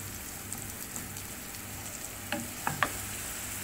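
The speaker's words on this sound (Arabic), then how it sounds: "البصل هنا راه مبشور يعني راه غافي، ونخلوه يتقلى لنا شويه" Grated onion frying in a pan, a steady soft hiss of sizzling oil throughout with a few brief clinks or stirring scrapes near the end; no talking.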